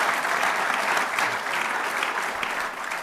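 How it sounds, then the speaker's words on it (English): An audience claps steadily at a mayoral accountability report event, a dense, even round of applause that runs for the full three seconds without fading. "let's give Steve and the team a round of applause for that"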